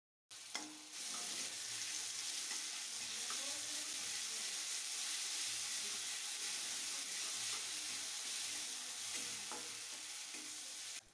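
Green chili and a spoonful of ginger-garlic paste sizzle and crackle steadily in a hot pan, a loud continuous frying hiss with occasional stirring scrapes, no voices.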